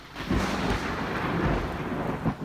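Heavy rumbling thunder from a dawn storm over Sydney rolls over a steady wash of rain, loud and continuous with a couple of deeper swells.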